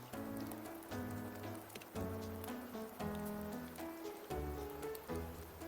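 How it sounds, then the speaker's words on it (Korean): Rain in the game Wuthering Waves, a steady patter of drops under a layered musical score whose repeating swells and chords dominate, continuous and fairly quiet, with no talking. "말이 끝나기도 전에 비가 오네."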